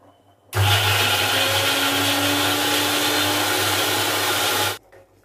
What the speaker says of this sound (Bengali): মটরশুঁটিগুলো এই জারের মধ্যেই পেস্ট করে নেব।